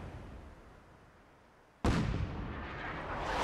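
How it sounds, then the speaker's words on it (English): Artillery fire in the Fallout 4 video game: after a quiet rumble, a sudden loud blast breaks in and rolls on as a sustained, heavy roar. "And now we just watch and enjoy the show. And hopefully we hit some of these fuckers with the artillery."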